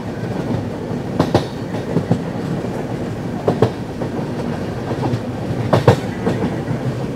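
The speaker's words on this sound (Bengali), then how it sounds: "পুরো ঘুরছে ট্রেনটা পুরো পাক মারছে একটা।" A Jammu Tawi Express passenger train (13151) running on tracks, rumbling steadily with repeated rhythmic clacks of wheels over rail joints, close and fairly loud.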